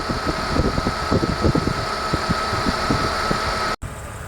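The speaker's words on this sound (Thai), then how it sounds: "พัดลมไฟฟ้าทำงานปกตินะครับ" An electric radiator fan on a Jeep Cherokee whirs steadily beside the idling engine with the air conditioning running, a continuous close mechanical drone that briefly cuts out near the end.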